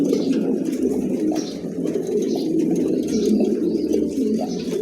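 A pair of pigeons coos in low, soft, repeated murmurs, near and continuous, with light background noise and no speech.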